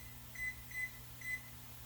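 A kitchen timer gives three short electronic beeps while being set for two minutes during cooking, spaced evenly at moderate volume over a low steady background hum.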